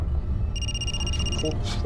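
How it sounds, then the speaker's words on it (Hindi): A telephone rings with a bright electronic trill lasting about a second, heard over a steady background murmur in a tense indoor scene. "फोन आ रहा है हमारा,"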